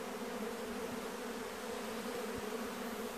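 Honeybees swarm around a natural hive being harvested outdoors, giving a dense, steady buzz that holds evenly from start to finish with no voices.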